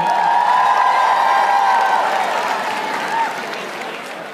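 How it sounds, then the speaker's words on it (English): Audience at the MOBO Awards 2021 ceremony clapping loudly, with cheers and a whoop rising above the applause, which fades gradually toward the end. "can we just give a big round of applause to everybody inside that's been nominated?"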